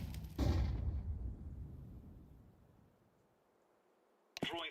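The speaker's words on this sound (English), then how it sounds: "Deploying flashbang." A flashbang grenade detonates in the Roblox shooter Phantom Forces: one loud burst with a long, fading ringing wash, then a sudden sharp noise near the end.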